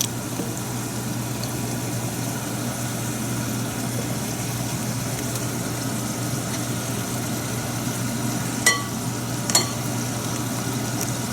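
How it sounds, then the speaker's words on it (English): A pan of sauce with mushrooms and onions sizzles steadily as it cooks down for crisp velvet shrimp, a dense, even frying hiss throughout with a couple of faint clinks near the end and no talking. "This sauce needs to cook down, and it will get all the flavors from the mushrooms and the onions."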